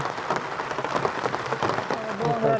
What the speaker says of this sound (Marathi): पाऊस चालू आहे थोडासा कमी जास्त होतोच पाऊस पण पडतच आहे